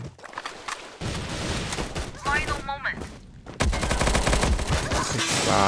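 P90 gunfire in the online shooter Bullet Angel, rapid bursts of loud automatic shots and impacts layered with game effects, while a player speaks over the action.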